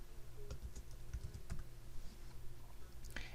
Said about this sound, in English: here we can start typing in our text